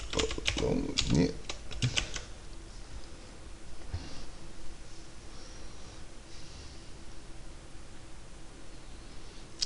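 Quick bursts of keystrokes on a computer keyboard, a dense cluster of clicks up front then sparse taps, close by and fairly soft, with a voice speaking over part of it.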